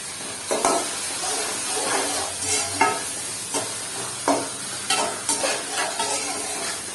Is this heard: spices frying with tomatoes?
yes